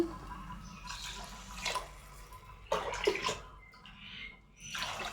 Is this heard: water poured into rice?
yes